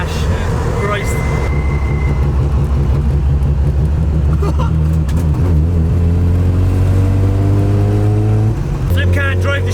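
Datsun Sunny truck set up as a drift car, engine being run in below 4,000 RPM, clunking with differential backlash while the engine drones and revs steadily up close, with people talking over it.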